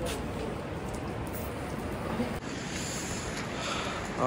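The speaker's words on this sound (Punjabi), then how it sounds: "ਮੀਂਹ ਪੈ ਰਿਹਾ ਠੰਡੀ ਠੰਡੀ" Steady rain falls along the road to Manikaran Sahib as a continuous even hiss, with no voices.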